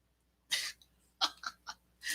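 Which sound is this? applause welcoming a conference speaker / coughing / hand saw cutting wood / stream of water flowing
coughing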